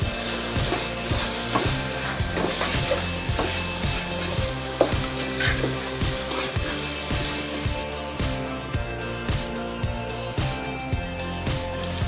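Mutton fries in oil with ginger-garlic paste, a loud continuous sizzle broken by a regular rhythm of spatula scrapes and stirring strokes throughout, close up and without talk.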